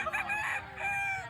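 A rooster from a poultry farm raising Banahaw, Lansing, Boston and Gray lines crows once in a drawn-out, fairly close call, heard alone.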